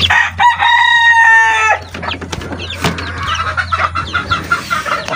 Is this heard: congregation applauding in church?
no